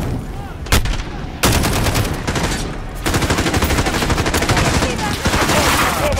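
Automatic gunfire in the video game Call of Duty: Modern Warfare, with a few loud sharp shots early on followed by dense, sustained rapid-fire bursts that stay close and loud throughout.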